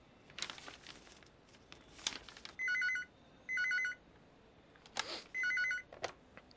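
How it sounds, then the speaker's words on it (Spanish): A telephone bell rings in three distinct bursts, each close and loud with a short pause between them, over faint rustling and background noise. "Diga? Yasemin Ustun está en el teléfono"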